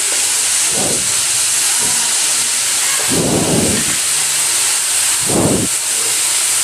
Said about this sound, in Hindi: हमारी तेल भी गर्म हो चुकी है। अब हम इसमें कटी हुई आलू को डाल देंगे।